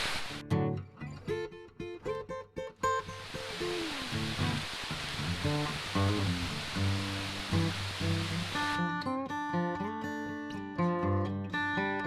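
A waterfall on a mountain creek along Flat Laurel Creek sends up a steady rushing roar, clearest in the middle stretch, with music playing loudly over it the whole time.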